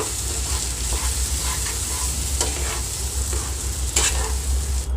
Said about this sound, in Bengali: ডালটাকে ভালো করে ডিমের সঙ্গে মিশিয়ে নিচ্ছি।